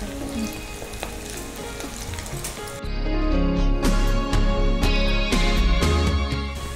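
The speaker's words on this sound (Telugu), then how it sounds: "ఈ పీసెస్ని ఏం చేయాలి మనం ఇప్పుడు? డీప్ ఫ్రై చేయాలి. ఓకే, వేసేయండి." Green kofta pieces deep-frying in hot oil, with a steady loud sizzle that surges as more pieces drop in, accompanied by crackling pops and a few stirring knocks close by.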